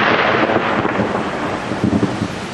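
Thunder from a lightning strike, a loud, close, continuous rumble with rolling low-end surges and rain-like hiss, no voices.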